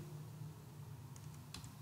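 Computer keyboard typing during steel shed modeling work in Tekla Structures, a few faint, quick key clicks near the end over a steady low hum.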